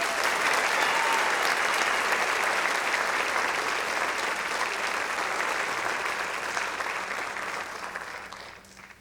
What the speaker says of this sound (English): And another round of applause for my band teacher,